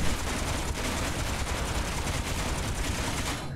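Ship cannons fire in the space game Space Engineers at a long-range target, a dense continuous roar of rapid gunfire held steady and loud before cutting off abruptly at the end.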